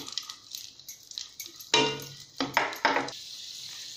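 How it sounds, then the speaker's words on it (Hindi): Raisins dropped into two spoonfuls of hot ghee in a kadhai, giving a few sharp bursts of sizzling and frying with soft stirring and clinks between them, close and fairly loud. "इसमें हम अपनी ये किशमिश डाल के थोड़ी सी भून लेंगे।"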